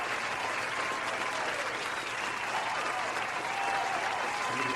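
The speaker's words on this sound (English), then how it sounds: "And there's the applause." Dense, steady applause from a crowd in Tomb Raider: The Last Revelation, continuous clapping at moderate volume throughout with no clear breaks.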